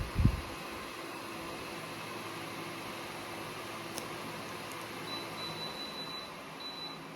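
A bladeless turbine-style fan runs at its highest, tenth speed setting, giving off a steady, even broadband whoosh throughout, with a brief click near the start and a faint high electronic tone toward the end.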